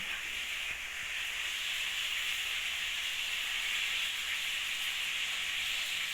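Liquid fertilizer sprayed in a steady continuous hiss over wheat seeds of an old heritage variety before sowing, close and unbroken for the whole stretch with no talk.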